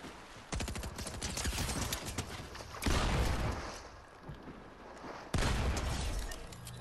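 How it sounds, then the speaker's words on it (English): Rapid automatic fire from the heist blink mag SMG, an exotic submachine gun in a video game, crackling in dense bursts with brief gaps between three loud volleys. "Heist blink mag SMG."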